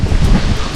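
Strong wind blowing outdoors in rural Philippine countryside, a loud, low roaring buffet against the microphone that lasts the whole brief moment, with no talk.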